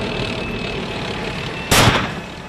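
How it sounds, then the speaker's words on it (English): A tank fires a single sharp, loud blast at a suicide truck bomb on the road to Mosul, cutting through a steady rumble of idling engines. "A tank fired at a suicide truck bomb before it could wreak its havoc."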